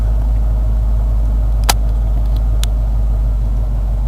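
A warmed-up 302 V8 engine in the little mule runs with a deep, steady, loud rumble close by, broken only by a couple of sharp clicks.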